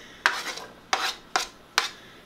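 Onions stirred in a hot pan for vegan Jamaican beef patties, four distinct scraping, sizzling strokes in a steady rhythm, close and moderately loud, with no talking.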